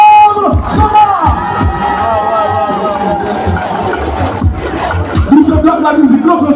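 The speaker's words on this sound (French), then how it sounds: "Merci de faire le maximum d'applaudissements pour le lycée Alexandre Somar." Crowd at a presidential event in Makokou cheers and applauds for students of lycée Alexandre Somar, loud roaring voices and shouts with clapping, swelling again near the end.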